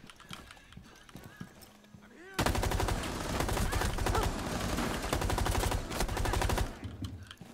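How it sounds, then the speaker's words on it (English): Sustained LMG machine-gun fire in Rainbow Six Siege erupts loudly after a quieter stretch, a rapid, steady rattle of rounds lasting several seconds before cutting off. "She's got an LMG."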